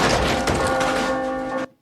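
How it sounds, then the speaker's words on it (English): Large bell struck by a cruise ship ploughing into it during a crash scene, a loud clanging ring over crashing debris that sustains briefly and then cuts off sharply. "Actually, it does ring the bell."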